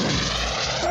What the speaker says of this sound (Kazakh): Бұл ұшақтың дыбысы болды.